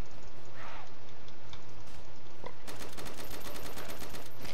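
Rapid gunfire in a zombie video game, a steady close rattle of shots that grows denser toward the end, with a low hum underneath and no clear talk.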